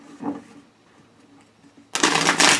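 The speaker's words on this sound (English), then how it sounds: "I'm going to shuffle these two." Quiet handling sounds, then a quick riffling shuffle of a tarot card deck, crisp and close.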